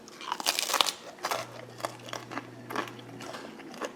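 Crisp, brittle crunches and cracks come in a quick irregular series, close up, as thin gluten-free quinoa flatbread snaps apart.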